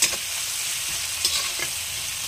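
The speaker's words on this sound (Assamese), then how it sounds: "এয়া মই অকণমান দেৰি ফ্ৰাই কৰি লৈছোঁ" Taro leaf curry ingredients fry and sizzle steadily in a pan, a loud continuous hiss broken by a few stirring scrapes.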